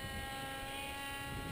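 Paramotor engine driving a MIM Blast with an MP1 paraglider in flight, a steady, fairly faint propeller drone holding evenly throughout with no talk.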